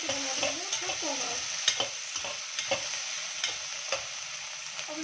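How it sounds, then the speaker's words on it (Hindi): Tomatoes frying in a pan for poha give a steady, moderate sizzle, broken by a few sharp scraping stirs and light knocks of a spoon against the pan. "अब हम इसमें डालेंगे थोड़े से टमाटर, इसको भी हम अच्छे से भून लेंगे।"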